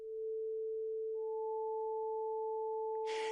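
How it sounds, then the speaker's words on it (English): A steady pure sine tone sounds alone, and a second higher sine tone joins it partway through, both holding level until a short burst of noise cuts in at the very end. "Now we're going to add another sine wave at another frequency, and another one, and another."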